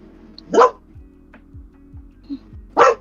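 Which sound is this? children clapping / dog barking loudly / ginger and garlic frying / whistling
dog barking loudly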